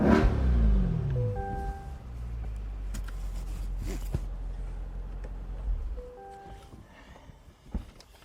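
A 2025 Chevrolet Corvette 3LT convertible pulls up, its engine rising briefly, then settling into a quiet rumble that fades. Scattered footsteps and small knocks follow over a soft background.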